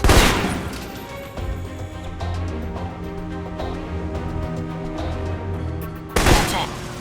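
Rifle shots in the video game Alpha Protocol: a loud sharp blast opens the stretch and another hits near the end, with steady game music humming underneath between them.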